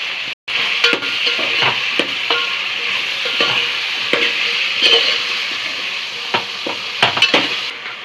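Tomatoes and salt go into a hot pan for sambar, a steady sizzle and frying hiss running throughout with scattered light clinks and stirring scrapes of a utensil against the pan, close and fairly loud, no voices.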